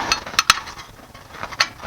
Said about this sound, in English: I use a rubber hammer to get it loosened up